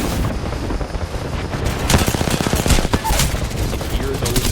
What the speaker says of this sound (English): You hear those energy weapons coming through, whether it's the Havoc, whether it's the Devotion